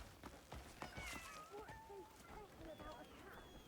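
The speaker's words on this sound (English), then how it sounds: "Wow, a cat!" A cat in the video game Crimson Desert lets out several short meows at moderate distance, with talking over the sounds.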